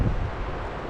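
Strong wind buffets the microphone at a dispersed campsite in the Ouachita National Forest, a steady, loud, low rumbling roar filling the whole second without a break.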